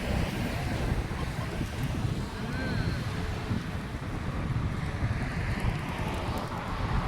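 Outdoor wind rushes and buffets the microphone in a continuous gusty roar, with a brief murmur from someone nearby.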